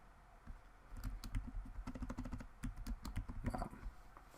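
Rapid typing on a computer keyboard, a quick run of close, soft key clicks that speeds up through the middle with a few brief pauses.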